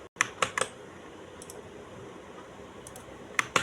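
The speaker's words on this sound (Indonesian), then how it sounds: "Kalau kita ketik bisa lama ya." Keys clack on a computer keyboard in short clusters of a few quick strokes at the start and again at the end, separated by a quiet pause.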